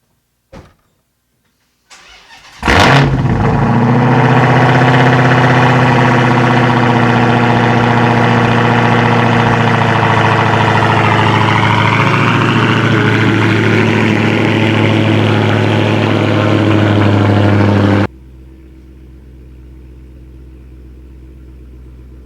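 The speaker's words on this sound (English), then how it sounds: "I don't think I've ever done a cold start" Dodge Challenger Hellcat cold start: after a few faint clicks, the engine catches with a sudden loud bark, then settles into a deep, steady idle for about fifteen seconds before cutting off abruptly.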